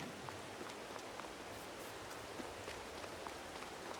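Steady rain in the video game Farming Simulator 22 patters softly and evenly, with scattered drips ticking through a continuous hiss.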